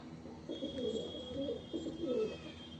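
Fulsira, Kalanka and Madrasi pigeons coo softly in a low, rolling murmur, a few bubbling phrases repeating over a quiet background hiss, fairly close but faint.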